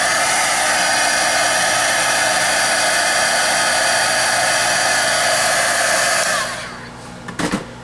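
A hair dryer blows steadily and loud on a cut chipboard paper craft piece, a constant whooshing roar that cuts off near the end and leaves a few soft handling bumps.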